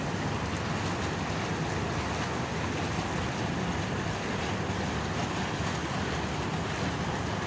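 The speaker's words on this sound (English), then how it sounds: "I'm noticing for the first time a genuine appreciation for the sound of the waves of the water" Water waves wash steadily outdoors, a broad continuous roar and hiss with some wind buffeting the microphone, unbroken throughout.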